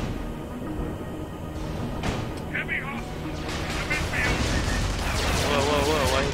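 Gunfire in the game Tribes Ascend rattles steadily beneath a busy mix of game effects, with someone talking over it near the end.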